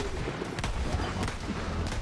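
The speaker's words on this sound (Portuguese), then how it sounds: "Rajada é 3 tiros." Burst-fire gunshots from a weapon that fires three rounds per burst in the co-op shooter Borderlands 3, a few sharp cracks spaced out within a dense, continuous wash of game noise.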